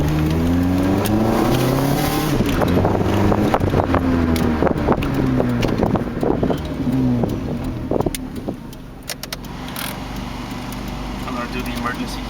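A Nissan Sentra B15 engine, fitted with newly installed headers, runs close by, revving repeatedly so its pitch rises and falls in several swells, with some wind buffeting on the microphone.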